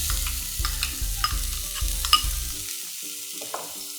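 Chopped onions sautéing in oil in a pan, a soft sizzle under rhythmic scraping stirs, with background music playing and no talk.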